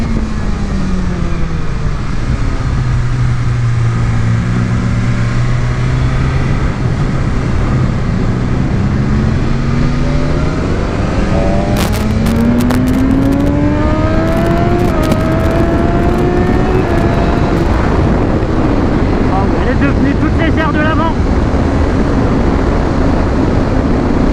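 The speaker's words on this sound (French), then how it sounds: "Je crois que jamais une S1000RR est allée aussi tranquillement sur le circuit." A BMW S1000RR motorcycle lapping a race circuit, its engine note loud and close throughout, pitch rising steadily through the revs with gear changes, alone without speech.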